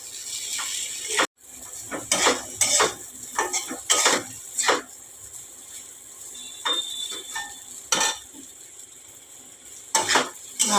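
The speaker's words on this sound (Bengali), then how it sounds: "গোলমরিচ গুঁড়োটা দিয়ে একটু ভালো করে নাড়াচাড়া করে নেবো।" A spoon or spatula scrapes and knocks against a pan as food is stirred after ground black pepper goes in. Irregular metallic clinks and scrapes repeat close up over a faint sizzle.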